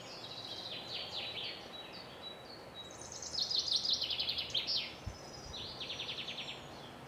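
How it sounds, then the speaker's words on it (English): Morning birds sing faintly in the distance, with several bright, trilling phrases rising and falling over a quiet, steady outdoor hush. "maybe you could even tune into the sound of the morning birds"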